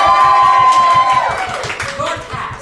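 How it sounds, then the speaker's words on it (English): Theater audience at an Unscripted Theater Company production of the musical comedy Beloved Strangers breaking into applause, dense claps and some cheering filling the room loudly throughout, with a sustained tone fading out beneath. "Round of applause from you guys."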